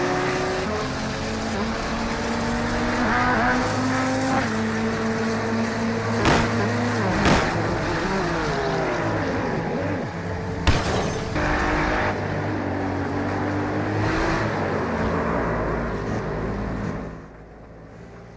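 Race cars roar and tires squeal as they skid and crash in iRacing on a rain-soaked track. Engines drone steadily throughout with sharp impact bursts and passing whooshes, loud and continuous, with no talking.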